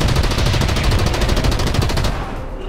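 Tank machine gun fire in the War Thunder video game, a dense continuous burst of rapid shots that stays loud for about two seconds before tapering off, with no talking.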